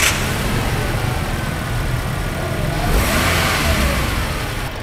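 A 2020 Toyota Rush TRD Sportivo engine runs in a loud, steady, smooth drone, swelling slightly midway, with no talk over it.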